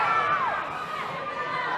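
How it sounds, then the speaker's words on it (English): Wrestling crowd at an independent show cheering for Horace, a small but vocal group shouting and whooping at moderate distance while a commentator talks over them. "A small but vocal minority cheering for Horace in this one."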